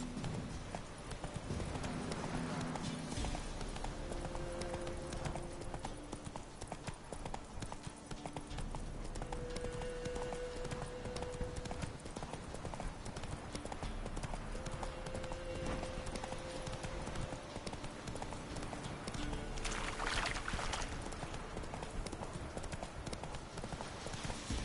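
Roach, the horse in The Witcher 3, gallops with steady rhythmic hoof clip-clops under a background game music bed, with a brief whinny-like cue and no talk.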